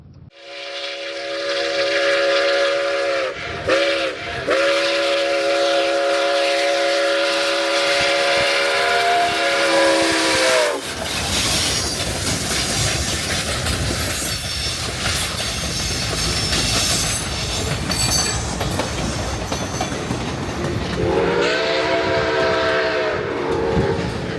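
Nickel Plate Road 765 steam locomotive passing close by, opening with a loud, sustained multi-tone whistle in long blasts, then a roaring rush of the train with clattering cars, and the whistle sounding again near the end.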